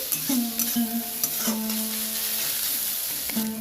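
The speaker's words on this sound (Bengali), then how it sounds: "হালকা করে আমি একটু নেড়ে নিচ্ছি।" Onions and capsicum stir-fried in a pan: a close, steady sizzle with a few spoon strokes scraping and knocking against the metal, no voices.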